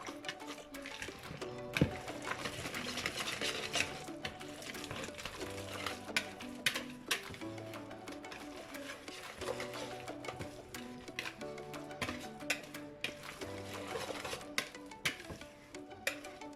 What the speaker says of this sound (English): I'm gonna add 2 eggs. And I'm gonna mix again.